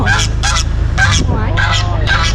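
Geese kept at a canal-side home in Ayutthaya, Thailand, honk loudly and close in a rapid series of about five harsh calls over a steady low rumble, with no talking.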